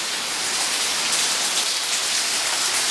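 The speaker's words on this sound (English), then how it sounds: "Starting to rain pretty good" Heavy rain from Hurricane Harvey in Houston pours steadily onto surfaces, a dense, even hiss with no breaks and no voices.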